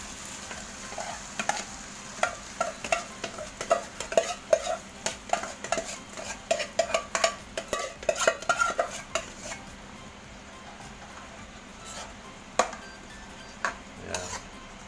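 Softened mung beans tipped into a frying pan with tomato and stirred, a faint sizzle under repeated scraping and clinking of a utensil against the pan, with no voices.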